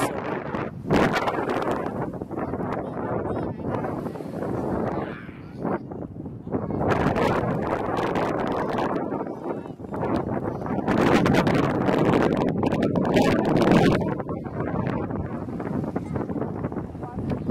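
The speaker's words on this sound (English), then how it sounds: "It's super windy." Strong gusty wind in a park on a bright winter day, buffeting the microphone in loud, rough surges with rustling, while people talk intermittently over it.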